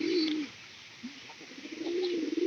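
Domestic pigeons coo softly near a straw nest box, two rounded low calls separated by a quieter pause, close by with no talk.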